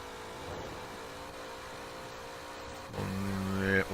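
A car engine in Forza Horizon 4 droning steadily at a top speed of about 170, a sustained whine that swells louder and rises in pitch near the end, with no talking.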